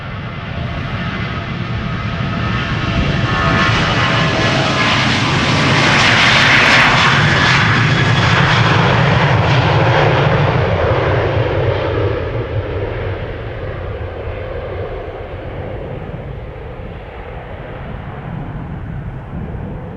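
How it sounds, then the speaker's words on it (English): A Transavia Boeing 737-800 departing Amsterdam Schiphol, its jet engines spooling up into a loud, sustained roar that builds to a peak and then slowly eases, heard from close by with no talking. "Transavia up next, spooling up, going to Valencia, 737-800"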